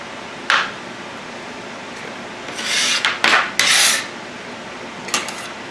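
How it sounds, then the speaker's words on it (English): A knife or scraper rasps chopped capers across a cutting board into a bowl in a few short, close scraping strokes, the middle ones longer and louder, over a faint background hiss. "I'm going to scrape those and put them back in the bowl."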